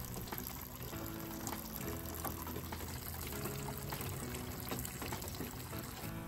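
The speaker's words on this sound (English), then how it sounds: "water first enters the inlet chamber and then flows into the bottom chamber" Rainwater from a downspout pours steadily into the inlet chamber of a first flush diverter and flows down into the bottom chamber, a continuous, even rush and trickle of water with no voices.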